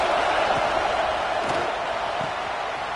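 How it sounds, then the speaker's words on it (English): A stadium crowd roars steadily at a South Carolina versus Florida college football game on fourth down, a dense, loud wash of massed voices that fills the whole clip with a few thumps and shouts rising out of it. "this crowd is making it miserable on this offense"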